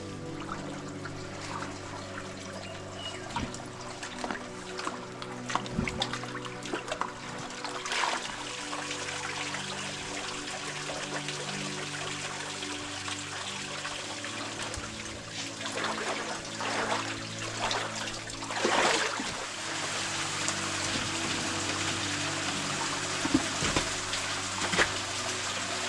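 Water trickles and flows through a small feeder creek in a canyon, a steady close burble with occasional louder splashes and no talking.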